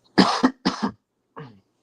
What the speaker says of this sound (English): Sorry if I cough periodically.